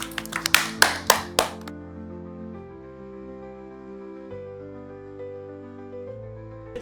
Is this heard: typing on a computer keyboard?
no